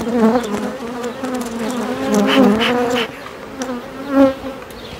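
Agitated queenless honeybees at a mini-plus hive, a close, loud, wavering buzz of many wings with pitch swells and a louder burst near the end, no voices.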